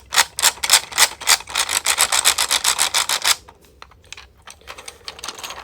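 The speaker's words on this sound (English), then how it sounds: "And the quietest wheel, which is still pretty loud." Quietest wheel on a 3D printed twelve-in-one fidget toy spinning, a fast run of dry plastic clicks in quick succession that stops abruptly, followed by sparse softer ticks.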